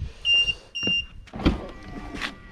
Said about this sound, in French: Vous avez entendu le double bip?